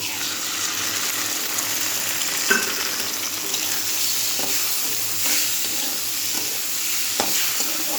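Eggs frying in a pan, a steady broadband sizzle that runs throughout, with occasional scrapes and clicks as they are stirred close by.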